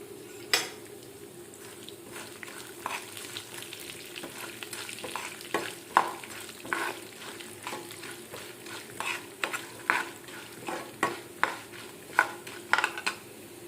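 Chana dal and urad dal roasting in a pan, with frequent sharp scraping and clinking of a spoon stirring against metal over a faint low sizzle, close and fairly quiet.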